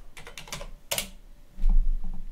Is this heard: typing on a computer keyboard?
yes